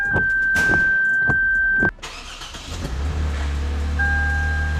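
A few clicks and a warning chime, then a rebuilt car engine cranks and fires up, settling into a low, steady idle nearby.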